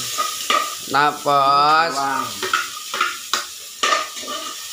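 Onions and garlic sizzle and get stirred in a pan over high heat while chicken curry is prepared, with scraping strokes and bursts of frying that recur under a person talking.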